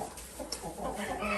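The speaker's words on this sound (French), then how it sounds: "c'est un parquet qui est composé de 9 poules et 2 coqs Orpington fauves" Buff Orpington hens and roosters in a breeding pen of nine hens and two cocks, a few soft clucks rising out of steady barnyard murmur, close and moderately loud with no talking.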